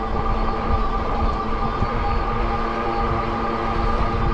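An Ecotric 20-inch folding fat bike rides along with a steady whirring electric motor drone and a constant rumbling roar of grippy fat tires on pavement, continuous and fairly loud throughout.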